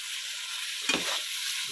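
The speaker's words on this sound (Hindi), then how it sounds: "ये गोश्त को जो है ना इसको हल्का सा फ्राई करूँगा" Mutton pieces frying in a pan for Peshawari nimkeen gosht, a bright steady sizzle with one short burst of stirring near the middle, close and without speech.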